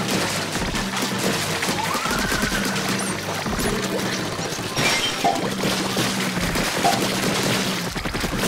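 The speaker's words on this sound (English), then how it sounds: "Oh, you don't like the Gatling gun, huh? I got it." A Gatling gun fires in Splatoon 2 during Salmon Run, loud rapid bursts of shots rattling on and off over several seconds, mixed with crashing impacts and game music.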